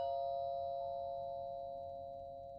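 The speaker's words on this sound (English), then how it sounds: "The sudden sound of my doorbell startles me." A doorbell chimes once inside an otome video game, a clean electronic ding-dong whose bright tone rings out steadily and slowly fades, heard alone with no talking.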